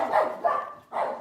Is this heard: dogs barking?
yes